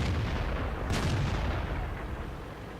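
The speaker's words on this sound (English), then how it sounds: "And I go for a shot on the Jagdtiger 88." An M103 heavy tank firing its cannon in World of Tanks, aimed at a Jagdtiger 88: one sharp, booming shot near the one-second mark over a low rumbling background, slowly fading out, with no talking.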